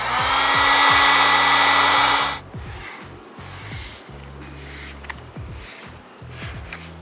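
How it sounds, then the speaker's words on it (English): A heat gun blows hot air loudly over the edges of Nissan GT-R trim pieces, a steady whooshing hum that drops away and restarts in shorter, quieter bursts. "we're just gonna heat up all the edges because now there's a little bit of a gap"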